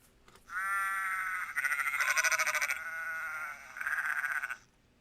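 A sheep bleats loudly several times in quick succession, close and clear, with a wavering, vibrato-like cry and brief pauses between calls.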